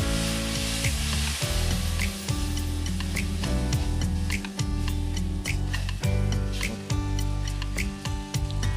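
Spice paste for lau ghonto, a vegetarian bottle gourd curry, frying in a pan with a little water, loud continuous sizzle with rapid scraping and stirring strokes of a spatula throughout, close by.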